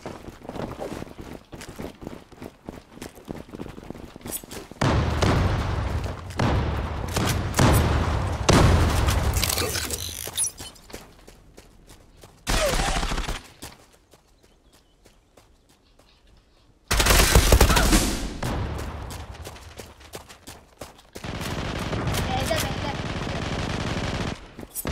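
Rapid automatic gunfire and single shots from the online shooter game Zula, loud and dense in bursts separated by short lulls, with booming blasts and background game ambience.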